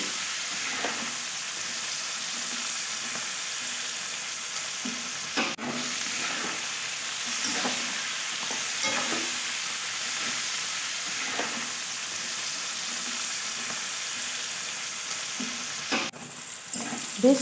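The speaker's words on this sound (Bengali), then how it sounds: "নুনটা দিয়ে ভালো করে নাড়তে থাকবে মানে ভাজতে থাকবে" Onion stalks frying with salt in oil, a steady moderate sizzle with soft rhythmic scraping as the pan is stirred, plus two sharp clatters along the way.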